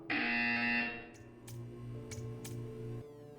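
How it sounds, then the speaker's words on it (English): A buzzer sounds in the Portal 2 video game, a steady electronic tone that cuts off after about a second, followed by a lower hum with a few sharp ticking clicks. "You will hear a buzzer."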